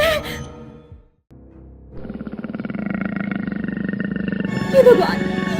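A wild tiger roars in a cartoon horror story, a loud sustained growling roar swelling after a brief silence and continuing to the end, following an earlier burst of sound.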